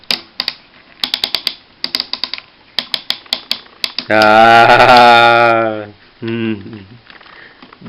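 Rapid plastic clicking in short bursts from a toy robot figure's ratchet joints, followed by a voice speaking briefly, then more clicks at the end.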